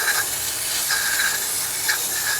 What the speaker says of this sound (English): Give it a good spray on both sides.